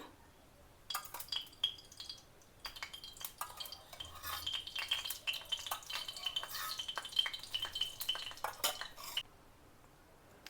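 Mustard seeds and cumin crackle and sizzle in hot tempering oil in a pan, a dense run of sharp popping clicks and spatter, close and steady, with brief pauses and a few metallic clinks.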